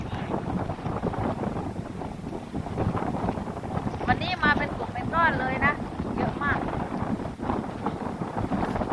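Strong wind buffets an outdoor microphone in a steady, broadband rumble through the whole stretch, while people talk over it at moderate level and a few brief higher chirps cut through the middle.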